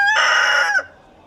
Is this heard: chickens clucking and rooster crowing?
yes